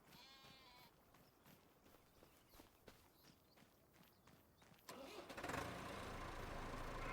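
In Farming Simulator 25, a tractor engine cranks and catches partway through, jumping to a louder steady idle after scattered footsteps and faint sheep bleats.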